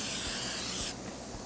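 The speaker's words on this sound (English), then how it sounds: "I'm going to hit the top of these with a cooking spray that'll help with the Maillard reaction" Cooking spray hisses steadily onto the tops of two ribeye steaks for just under a second, then cuts off abruptly, leaving a quieter background hum.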